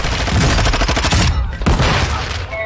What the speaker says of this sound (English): They're shooting at somebody.